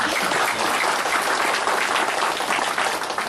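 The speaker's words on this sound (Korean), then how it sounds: "박수로 받아주시죠" Crowd at a political rally applauding a speaker's introduction, thick, continuous clapping at full volume throughout, with no talk over it.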